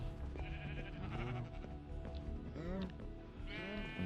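Sheep in the Minecraft video game bleat repeatedly, several wavering synthetic baas following one another over a steady background, with a voice talking faintly underneath.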